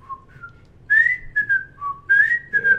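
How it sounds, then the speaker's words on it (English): A person whistles a short tune alone, clear and close, the melody moving in a few sustained phrases with brief pauses between them. "we just hear each other whistling"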